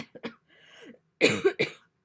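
A short throat sound and a brief hum, then two sharp, close coughs in quick succession; a quiet indoor setting with no other sounds.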